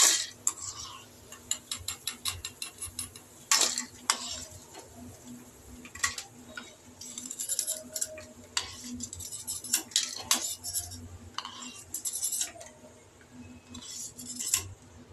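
A metal ladle clattering and scraping in a frying pan, light irregular clinks and taps over a faint background hum, no voices.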